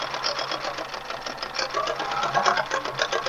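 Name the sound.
sewing machine stitching yellow thread outline on appliqué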